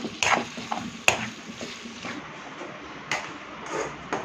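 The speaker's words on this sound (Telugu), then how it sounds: "మటన్ లివర్ వేసిన తర్వాత కర్రీని ఒకసారి తిప్పుకోవాలి" Mutton liver curry stirred in a pan, with a few sharp spoon knocks against the metal over a soft steady frying hiss, close by, no talk.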